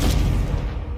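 A Confringo blasting spell goes off in Hogwarts Legacy, a single loud, close, rumbling explosion that booms at once and then fades over a second.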